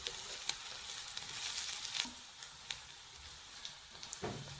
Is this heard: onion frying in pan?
yes